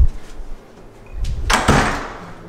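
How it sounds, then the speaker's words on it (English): An apartment door opening on moving day: a few soft knocks, a brief click, then a loud, broad clatter and rattle as it swings open, close and alone. "Go out and open the door."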